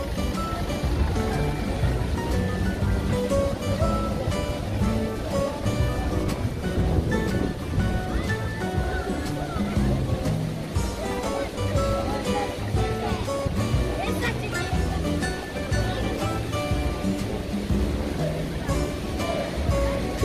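Steady rushing river water in Kisecik Canyon, Tarsus, during rain fills the scene, a continuous loud wash with gusts of wind over the microphone and faint voices mixed in.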